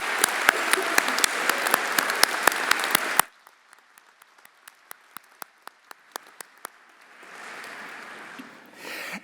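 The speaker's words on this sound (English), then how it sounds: "join me in recognizing each class of 2025 with another well-deserved round of applause" At a business school commencement ceremony, a large crowd applauds the class of 2025 graduates with loud, dense clapping that cuts off abruptly, then a few scattered claps and faint murmuring follow.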